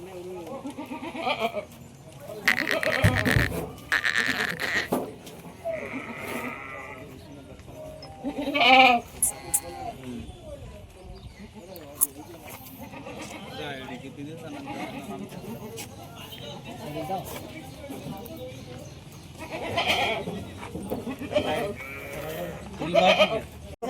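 Kathiyawadi goats bleat several times, loud and near, at a goat sale while people talk over much of the scene.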